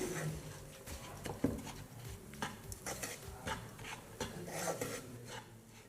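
A spoon scrapes and stirs a thick powdered-sugar barfi mixture in a pan over a gas flame, giving a steady run of soft rasping strokes and light metallic clinks with no talking.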